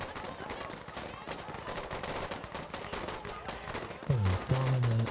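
Dense, continuous automatic gunfire crackles in a Battlefield Insurgency match against bots, one rapid stream of shots throughout, with a brief voice near the end.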